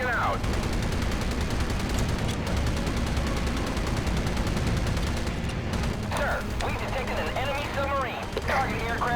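Anti-aircraft guns on the battleship Iowa fire at incoming planes in the World War II naval game Battlestations Pacific, a dense, continuous rattle of gunfire with booms, loud and unbroken throughout.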